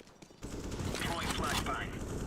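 Rapid automatic gunfire crackles in a first-person shooter match, a dense burst of shots starting abruptly after a quiet moment and running continuously, loud and close.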